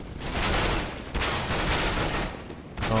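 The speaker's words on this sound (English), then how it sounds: "Oh, some SMG action here." SMG gunfire in a Counter-Strike match, dense bursts of rapid shots rattling through most of the span with brief gaps, loud and close, no talk.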